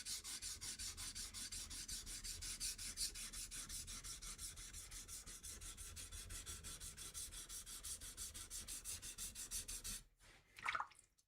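A blade bevel is rubbed back and forth on a 400 grit sharpening stone in steady, close rhythmic strokes for about ten seconds, then stops, followed by a brief clink.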